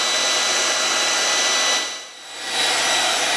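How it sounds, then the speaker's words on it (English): A hair dryer blows hot air over heat shrink tubing on a connection, a steady close whooshing hiss that briefly dips as the dryer is moved away and back. "Turn your hair dryer on, hold it over here, and give it a little bit of time, and this heat shrink tubing will conform to the shape"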